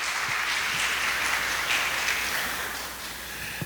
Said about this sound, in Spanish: Aplaudimos a Dios por la vida de ellos.